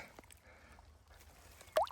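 A caught river fish, taken on a wobbler lure, released back into the water: quiet trickling and dripping, then a single short splash near the end.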